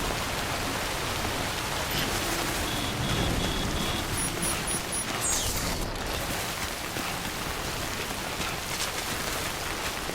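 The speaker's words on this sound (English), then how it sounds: "I don't think this rain's gonna stop." Heavy rain falls in the game Death Stranding, a thick constant roar of drops with faint higher electronic tones drifting over it and no speech.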